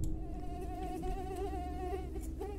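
Flies buzz steadily and loudly near a toilet in a haunted house in Vietnam in a horror video game, a continuous droning whine with no pauses.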